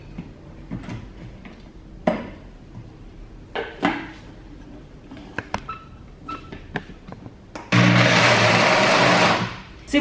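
After scattered clicks and handling knocks, a kitchen blender loudly whirs for about two seconds, blending peanuts with condensed milk, then cuts off abruptly.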